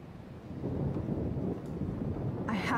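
A storm in the Life is Strange video game, with a steady low rumbling roar of wind and thunder that runs throughout, heavy and enveloping, and a brief voice near the end.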